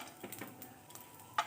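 Cashew nuts fry lightly in a pan with whole spices for Basanti polao, giving a soft, low sizzle broken by a few stirring clinks and scrapes and one sharp metallic knock at the end.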